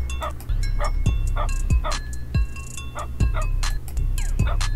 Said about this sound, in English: Oh, this is a dog barking.